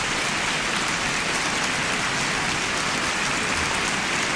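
Dense applause in a radio studio, a steady wash of many hands clapping at fairly close range, continuous through the whole moment with no voices over it.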